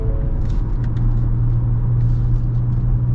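Steady road and wind noise inside the cabin of a moving Ford Raptor pickup, a constant low rumble with a faint engine hum running evenly throughout, loud and close, with no talking.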